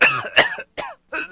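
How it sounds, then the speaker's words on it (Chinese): A man coughs loudly and forcefully in several harsh bursts with short pauses between them, close and indoors, pretending to be sick. "下一秒他就开始大声地对着猫眼咳嗽。"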